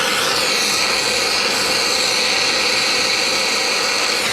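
A propane torch roars steadily and loudly while heating the blade adapter on a blown Briggs & Stratton 190cc flat-head mower engine, a continuous broadband hiss with no pauses or speech.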